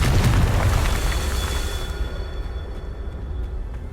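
Confringo blast spell explosion in Hogwarts Legacy on PS5, a loud close boom that erupts at once and then decays into a long rumbling tail over a quieter game background.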